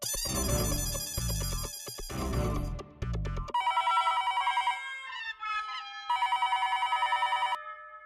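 A telephone rings in an Indian sitcom household scene. Loud buzzing tones give way to repeated electronic trilling bursts, with no talking.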